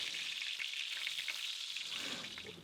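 Gluten-free chicken tenders frying in hot oil give a steady, dense sizzle with fine crackling that holds evenly throughout, quieting slightly toward the end.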